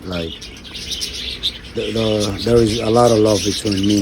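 Pet budgies chirp and twitter close by in quick, bright bursts while someone talks over them.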